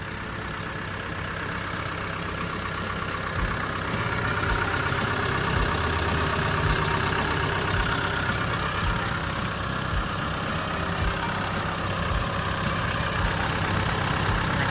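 A Caterpillar 910H wheel loader's 4.4-litre four-cylinder turbo engine idles with a steady, close mechanical rumble and a faint rhythmic knock, with no talking.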